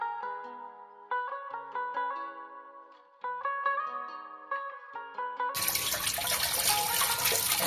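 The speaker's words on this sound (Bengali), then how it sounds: "দেখো আমিও ধুচ্ছি, খুব সুন্দর করে ধুতে হবে।" Soil-covered ingredients for Nigerian fufu are rinsed under a running tap, a steady rushing splash that bursts in abruptly after a stretch of gentle melodic music.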